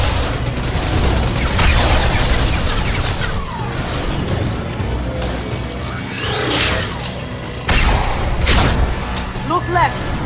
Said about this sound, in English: Try shooting the bad guys.